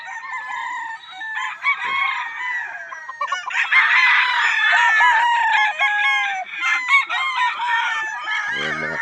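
Gamecock stags at a game farm crow repeatedly and overlap, with clucking from several birds. The calls are loud and close and continue without a break, and no one speaks.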